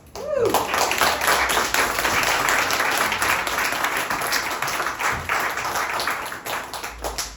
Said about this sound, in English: I'm really glad we were able to clap just now